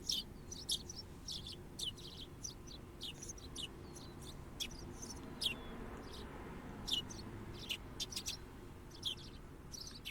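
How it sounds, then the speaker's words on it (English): Birds in the video game Higurashi When They Cry chirp and tweet repeatedly in short bright bursts over a quiet, soft background hum. "I hear birds."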